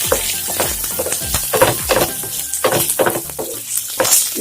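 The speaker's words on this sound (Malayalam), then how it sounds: "ഡ്രൈ ഫ്രൈ ചെയ്യുന്നതിനെക്കാട്ടിലും ടേസ്റ്റ് നമ്മൾ എണ്ണ വെച്ചിട്ട് വഴറ്റുമ്പോഴാണ്" Coconut and spices sautéing in hot oil in a pan for Palakkad-style chundanga puli, giving a steady close sizzle broken by repeated scraping stirs.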